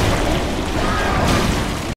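A loud, sustained rumbling blast from a thrown firebomb in Dark Souls 3, dense and booming for about two seconds before cutting off abruptly.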